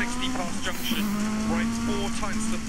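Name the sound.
Renault 5 Turbo rally car launching on wet stage, Dirt Rally video game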